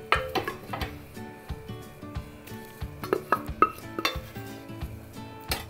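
Pieces of duck go into a masala gravy in a pan for a Kerala-style duck roast, with a string of sharp spoon-and-pan clinks and clatters at uneven intervals, close and fairly quiet, without talk.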